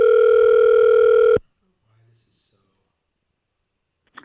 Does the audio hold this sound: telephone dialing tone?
yes